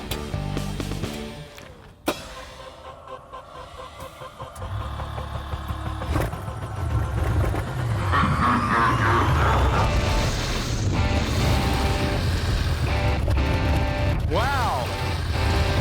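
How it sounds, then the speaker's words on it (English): A car rigged with flamethrowers starts with sharp bangs, then its engine catches, idles and revs into a loud, sustained roar with rising whines, while people talk beneath it. "I need to see this thing shoot those flames."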